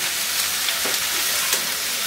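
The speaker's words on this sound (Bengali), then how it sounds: "মাংসটুকু দিব, একটু মিশাই দিলে ইয়েগুলা পুড়ে যাবে।" Steady, loud hiss of beef sizzling in a pan with onions and ginger-garlic paste, a continuous broadband frying sound with faint stirring scrapes and no talking.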